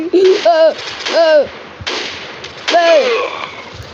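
Gunfire in a shooting video game, with sharp bursts of shots under loud excited talk, close and dense.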